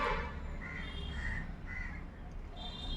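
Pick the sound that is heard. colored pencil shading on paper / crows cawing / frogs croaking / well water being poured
crows cawing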